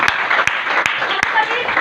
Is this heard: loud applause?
yes